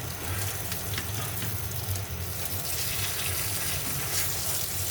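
Eggplant fritters frying in a little oil in a pan, a dense continuous sizzle with faint scraping as each piece is turned over one by one.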